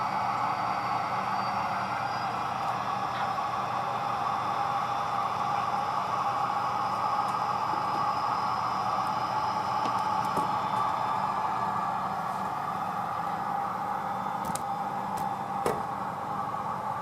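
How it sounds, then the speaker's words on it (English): A model railroad train pulls out of a staging yard onto the main line, giving a steady continuous mechanical hum and rumble throughout with a few faint clicks near the end, no talking. "We'll be pulling this train out of the yard"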